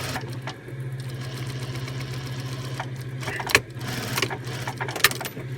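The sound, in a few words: sewing machine back tacking a seam on a bag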